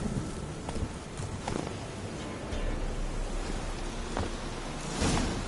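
Roach the horse galloping in The Witcher 3, with a soft irregular clatter of hoofbeats over an outdoor wash of wind and ambient noise, fairly faint and distant rather than crisp.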